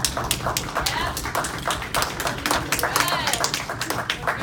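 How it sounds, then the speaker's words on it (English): Standing audience clapping their hands at a presenter's prompt, sharp irregular claps mixed with taps and loud cheering voices, close and lively throughout. "If you're standing, clap your hands."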